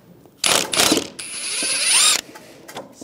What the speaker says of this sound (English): Using an 18mm socket, just go right over where the nut is.